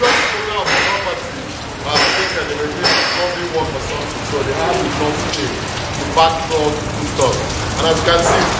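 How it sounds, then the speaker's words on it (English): Rain falling outdoors at a house being flipped, with steady, dense patter and drips on hard surfaces close by, with a voice faintly audible among the downpour. "And as you can see, it's still raining."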